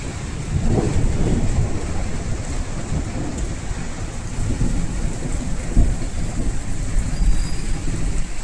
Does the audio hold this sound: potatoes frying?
no